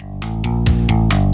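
Distorted music from a cheap old computer playing video game audio, harsh buzzy tones with sustained low notes and sharp repeated bright bursts in a quick rhythm, loud and close.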